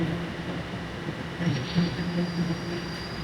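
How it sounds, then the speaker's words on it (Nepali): A Toronto subway train pulls into a station, a low steady rumble with a faint rising whine and brief wheel squeals mid-way, moderately distant and fairly quiet. "ट्रेन आउँदैछ।"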